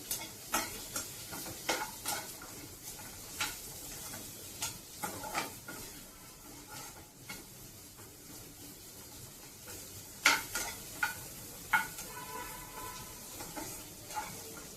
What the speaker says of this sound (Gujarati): ડુંગળીને સાતળી લેવાની છે આવી રીતે.